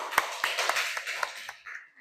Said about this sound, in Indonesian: Oke, tepuk tangan buat Padli.